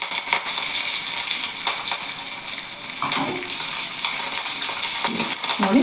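Curry leaves crackle and spit in hot tempering oil, a dense hiss with sharp pops and a few brief louder flares, heard close with no talking.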